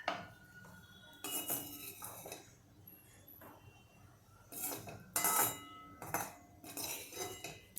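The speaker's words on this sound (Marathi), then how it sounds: "मी प्लेट आणली आहे आणि प्लेटमध्ये मी आता ही काढून घेणार आहे" Food is served onto a plate, with dishes and cutlery clinking and scraping in irregular bursts, some loud and close, others soft, separated by brief quiet gaps.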